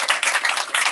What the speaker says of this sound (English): give yourself a round of applause for doing that